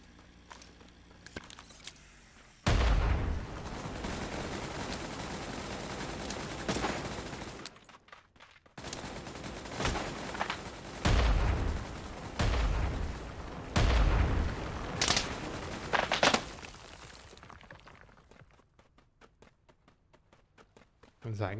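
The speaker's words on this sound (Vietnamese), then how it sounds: "bắn cái xe chơi chơi đi" Rapid bursts of gunfire from a battle-royale shooter game pound a car, loud repeated volleys with heavy low booms separated by short pauses, a player's voice speaking in between.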